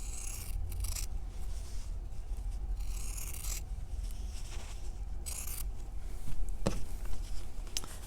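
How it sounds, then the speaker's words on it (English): Scissors snip through fabric quilt pieces to cut them apart, a series of crisp, close cutting strokes with brief pauses and a little rustle of cloth between them. "I'm going to cut these apart"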